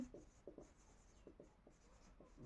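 A marker squeaking across a board as a physics teacher writes, with short, faint scratchy strokes in quick irregular bursts in a quiet room.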